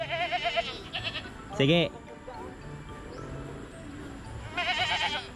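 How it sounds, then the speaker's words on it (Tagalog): Goats bleat on a mountain farm, several loud wavering calls near and far with pauses between, and a person speaks briefly. "Maraming kambing dito, guys, sa bundok eh."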